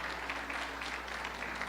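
A church congregation applauds in praise, a soft, fairly distant wash of many hands clapping steadily over a low room hum, with no speech over it.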